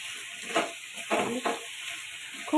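Paneer frying in a pan with spices for chilli paneer, a steady close sizzle broken by a few louder stirring scrapes.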